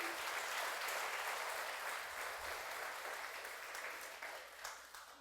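A church congregation applauds during a Spanish-language sermon, a broad sustained clapping that gradually thins and fades toward the end.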